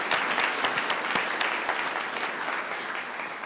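A city council meeting audience applauds, opening with brisk, distinct claps that soon blend into a softer, sustained patter at moderate distance.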